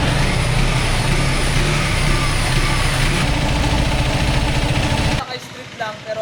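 A KTM SMC-R 390 motorcycle engine runs loud and close with a sustained rev, then cuts off abruptly near the end, leaving quiet background and a voice speaking.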